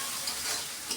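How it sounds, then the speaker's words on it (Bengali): Biryani spice masala is stirred and sautéed in a pan, producing a dense, steady hiss of sizzling with light scraping swells, close and continuous. "এখন মশলাটাকে সুন্দর করে কষিয়ে নেব আমি।"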